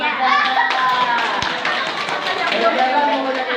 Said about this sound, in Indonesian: tepuk tangan untuk Nafreza